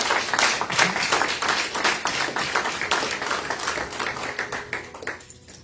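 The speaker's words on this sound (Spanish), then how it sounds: "Denle un fuerte aplauso al Señor" Church congregation applauding strongly during a Sunday sermon, dense continuous clapping across the whole clip that slowly thins and fades out toward the end, with no speech over it.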